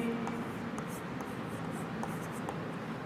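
Pen or chalk writing by hand on a board during a Class 9 science lesson on motion, a steady close scratching with short strokes and brief pauses, continuous for a few seconds with no talk over it.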